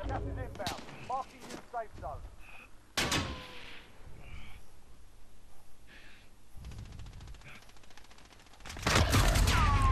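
Gunfire in the Warzone video game comes as sharp bursts and rattling volleys, loudest near the start and the end, mixed with a player's voice, gasps and other game noises.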